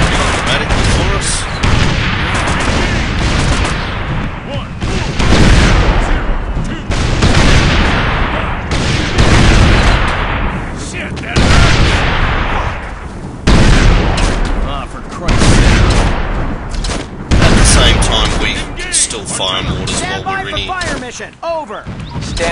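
Mortar and rifle fire in a video game, heard as a loud, dense, continuous barrage of booming blasts and crackling shots that swell and fade in waves, with a voice talking over parts of it.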